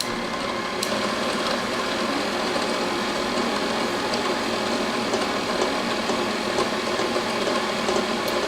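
An electric mixer creams butter, sugar, lemon zest, vanilla and salt for a pâte sucrée lemon tart, giving a steady, even motor whir with light rattling that carries on without a break.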